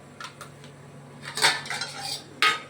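Plates, pots and cutlery clatter and clink as home-cooked food, including banana flower stir-fry, is served onto a plate in a home kitchen, with scattered close sharp hits and a louder clank near the end, no talking.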